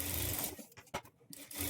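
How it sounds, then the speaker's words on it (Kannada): Sewing machine running a decorative edge stitch along a blouse piece, with two short, close bursts of fast mechanical whirring and a brief quiet gap between them, no talking. "ಈ ಪೀಸ್ ಮೇಲೆ ಎಡ್ಜ್ಗೊಂದು ಕಿನಾರಿ ಸ್ಟಿಚ್ ಹಾಕ್ಕೊಳ್ಬೇಕು."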